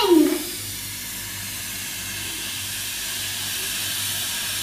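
Chocolate syrup hits a very hot sizzler plate with a short loud sizzling burst at the start, then settles into a steady soft hiss that continues close by.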